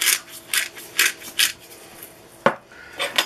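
A large pepper grinder cracking peppercorns over a dumpling batter, heard as about four short, gritty rasping bursts at a steady rhythm, close and fairly loud, followed by a sharper knock.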